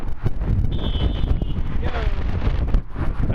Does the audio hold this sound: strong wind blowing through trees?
yes